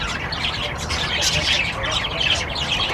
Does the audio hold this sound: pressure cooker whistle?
no